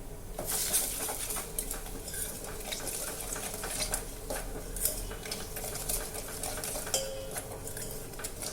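Spices being stirred in a pot for Kolhapuri-style matki misal: steady scraping and clinking of a spoon against the pot, close and moderately loud, with faint sizzling underneath and no talking.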